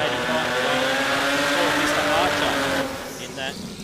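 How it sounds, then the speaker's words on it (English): Loud Mazda 13B rotary-powered RX4 coupe at a sports compact drag race, a harsh sustained rasping roar that holds steady for nearly three seconds before falling off, with commentary over it. "that very obnoxiously loud 13B RX4 coupe"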